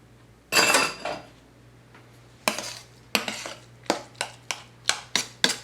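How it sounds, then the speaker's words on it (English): Cooked cauliflower mashed with the back of a big spoon: a few scraping bursts, then a steady run of sharp metal-on-dish knocks and scrapes, close and fairly loud over a low constant hum, no talking. "get you a big old spoon with a big back and you can kind of mash it up a little bit"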